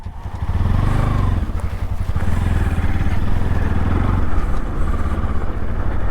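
A motorbike engine runs steadily and loud, close by, with a low rumbling idle throughout as the bike is brought to a stop and parked in front of a shop along a road toward a Nepal viewpoint.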